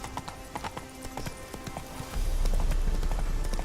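Roach the horse gallops in The Witcher 3, hooves clip-clopping in a quick steady rhythm, with a louder rumble of movement taking over near the end.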